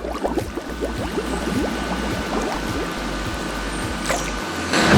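Air released through the nose while back-floating in water, heard as a steady stream of bubbling and gurgling with repeated low thumps, continuous and close.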